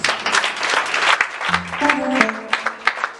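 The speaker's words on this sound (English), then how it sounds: "Clap for Jesus." Congregation clapping during a church healing service, uneven bursts of hand claps with scattered louder claps, mixed with brief voices and a sustained tone in the middle.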